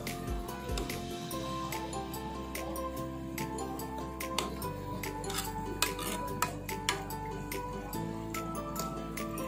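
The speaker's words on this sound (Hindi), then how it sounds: "अब हम इसमें पकौड़ियाँ डालेंगे और एक उबाल आने पर गैस को बंद कर देंगे" Pakoras going into a pot of simmering kadhi, with repeated clinks and scrapes of a metal spoon against the pot over a low steady hum, some sharp taps standing out, no talk.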